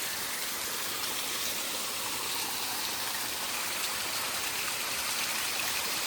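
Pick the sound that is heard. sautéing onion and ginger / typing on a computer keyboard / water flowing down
water flowing down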